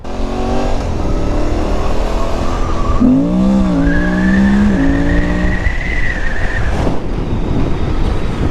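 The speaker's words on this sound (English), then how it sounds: "that was a bit of wheel spin and fishtailing up the road" A Suzuki V-Strom 800 motorcycle with a re-mapped ECU spins its rear wheel up a road, the engine rising in pitch and revving hard under loud, close wind noise, with a squealing tone as it accelerates.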